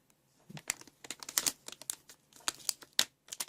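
Crinkly plastic packaging of an nRF24L01 wireless module being torn open and unwrapped up close, a quick run of irregular crackles and rustles.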